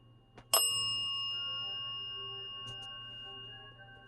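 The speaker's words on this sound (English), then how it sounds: "Thank you for ringing the bell." A single bright bell strike rings out and decays slowly, followed by a faint second tap, all over a low steady hum with no voices.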